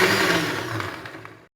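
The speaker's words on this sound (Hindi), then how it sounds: "अब मैं इसे अच्छी तरह से ग्राइंड करूँगी" An electric kitchen blender whirs steadily as it grinds fibre-free mango pulp for homemade jam, a loud, close motor drone that cuts off abruptly after about a second and a half.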